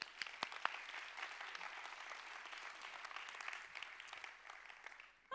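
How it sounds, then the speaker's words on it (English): An audience at a TEDx university event claps in a light, moderately quiet round of applause that continues evenly, with a sharp sound cutting in at the very end. "Well, give yourselves a round of applause."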